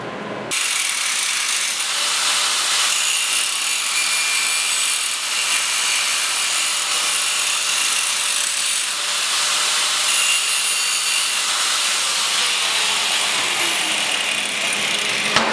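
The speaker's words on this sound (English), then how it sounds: "we're just going to use a grinder today" A grinder works down a metal part from a Delta wood lathe tailstock, giving a steady, loud, continuous rasping whine that holds for the whole stretch with no talk over it.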